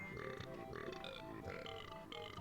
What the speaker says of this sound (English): and his noise is burping